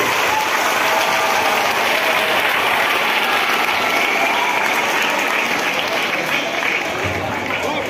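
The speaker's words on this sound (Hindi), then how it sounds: "इनके लिए भी तालियां चाहिए।" A crowd claps continuously and evenly throughout a civil defence mock drill at a school, sustained applause filling the whole stretch with a voice faintly underneath.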